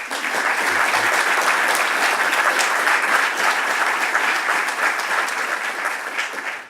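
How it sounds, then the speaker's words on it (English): Steady, sustained applause from an audience at the INSA Achievement Awards ceremony, a thick, even wash of clapping that holds at full strength throughout before easing slightly near the end. "Please join me in a round of applause for the recipient's family and friends"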